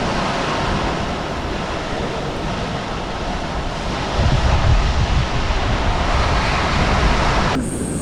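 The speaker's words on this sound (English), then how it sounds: "in this little cove right on the ocean where the water is swashing in" Ocean water washing into a small rocky cove on the Washington coast, a steady broadband roar of surf that swells louder midway through and continues unbroken, with no voices.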